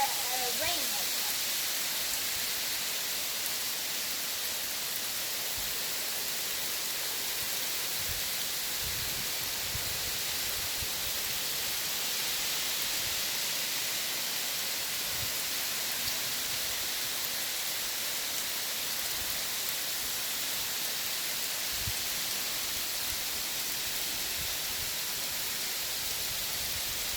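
Hail and heavy rain fall outdoors in Danville, California, as a dense, constant hiss of a downpour that continues unbroken throughout.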